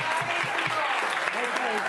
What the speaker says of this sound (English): The entire room erupted into a standing ovation.